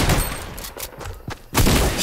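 Rapid bursts of gunfire in a shooter video game, loud and dense at the start and again at the end, with a quieter gap between, no talk over it.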